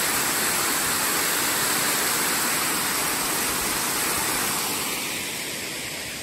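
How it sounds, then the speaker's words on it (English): A waterfall below a pond spillway in a state park pours as a steady, broad rushing roar heard from above, continuous and unbroken, easing slightly toward the end. "There's the waterfall down below."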